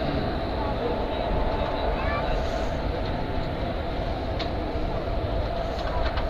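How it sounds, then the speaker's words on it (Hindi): The Kosi Super Express pulls into Gaya Junction with a loud, continuous rumble and rolling clatter of rail cars, the noise steady and close throughout. "भाई साहब, अपनी ट्रेन की अराइवल हो रही है गया जंक्शन पे"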